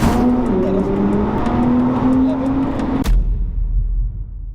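A Nissan GT-R engine revs hard under heavy throttle, a loud close roar with a rising drone that cuts off sharply after about three seconds, then a low idle rumble.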